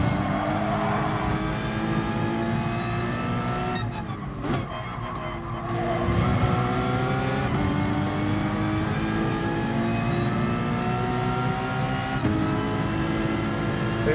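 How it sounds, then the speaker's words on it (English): A race car engine in Gran Turismo Sport drones loudly and continuously, its pitch rising and falling through gear changes, with a brief sharp dip and skid-like scrape in the middle before the revs climb steadily again. "you're in the slowest car in the race"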